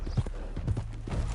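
Horse hooves clip-clop in a steady walking rhythm, close and moderately loud, in Red Dead Redemption 2 over a soft ambient backdrop.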